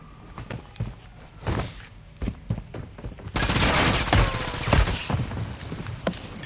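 Rapid bursts of gunfire from Call of Duty, in a multiplayer match with a hardpoint objective, crackle close and loud in irregular volleys over footsteps and game noise, with a brief voice in the background.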